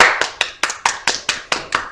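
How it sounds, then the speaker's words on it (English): A small group gives a round of applause, with about eight distinct sharp claps in a fairly even rhythm, close and clear, with no voices over them. "we'd just like to give him a big round of applause right now"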